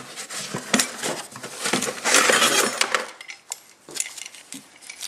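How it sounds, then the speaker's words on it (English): An old propane camping stove is hauled out of its cardboard box with a rapid clatter of metal parts, rustling and clunks close by for about three seconds, then a few scattered knocks as things settle. "my dad gave me this guy, his old camping stove, so I'll pull it out of the box"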